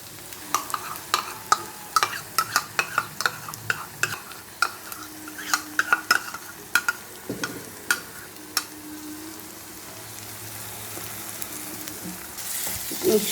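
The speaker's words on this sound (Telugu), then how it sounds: "ఇప్పుడు ఇందులో మనము మిక్సీకి పట్టుకున్న టమోటా పేస్ట్ వేసుకున్నామండి" Tomato paste, blended in a mixer, stirred and fried in a pan over steady low sizzling, with a quick run of sharp spoon-against-pan scrapes and clicks in the first half that thin out later.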